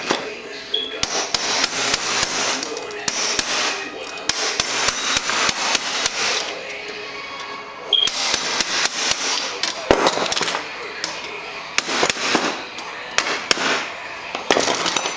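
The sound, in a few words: hammer striking chisel while working on a fixie bike frame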